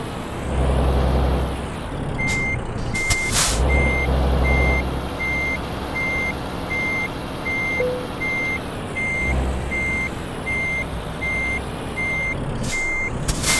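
Peterbilt 387 semi truck backing up in Euro Truck Simulator 2: an evenly spaced reversing beep repeats steadily over a rumbling diesel idle, broken by a few sharp air brake hisses.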